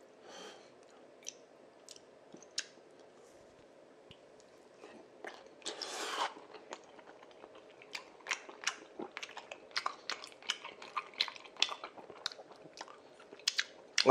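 Someone eats fried fish cakes (odeng twigim), with close, quiet bites and crunchy, wet chewing that becomes denser and more rhythmic, broken by a brief rustle.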